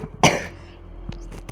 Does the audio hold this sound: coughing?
yes